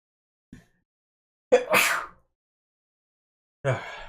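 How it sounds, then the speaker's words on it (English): A single sneeze with a sharp intake then a loud burst, preceded by a faint breath and followed by a noisy exhale or sniff; no talking. "And now I'm gonna sneeze."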